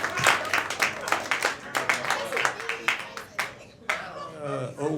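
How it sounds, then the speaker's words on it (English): Comedy club audience clapping for comedian Mike Morrison as he comes to the stage, with sharp claps scattered through a lively room and a voice cutting in near the end. "Get the clap back going for Mike Morrison"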